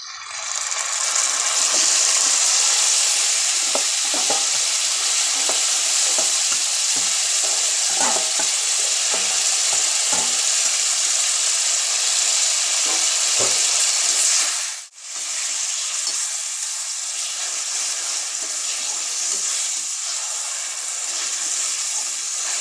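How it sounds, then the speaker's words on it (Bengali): Marinated chicken goes into a pan of fried onion and garlic, setting off a loud, steady sizzle with clatter and scraping from stirring, one brief dip midway. "দেখুন, 1 ঘন্টার আগে যে মাংসটা ম্যারিনেট করে রেখেছিলাম সেটা আমি দিয়ে দিচ্ছি।"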